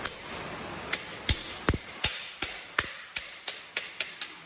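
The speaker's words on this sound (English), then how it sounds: "I got a light duty hammer here." A light duty hammer taps a socket down onto a Bobcat 763 cylinder part, about a dozen sharp metallic strikes in an irregular but steady rhythm, close and clear with no talking.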